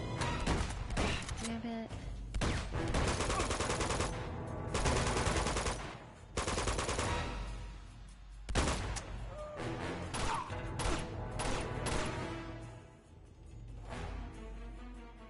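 Gunfire from AI soldiers in Uncharted 2, a dense run of rapid automatic bursts and single shots lasting throughout, loud and close, with a man briefly cursing over it.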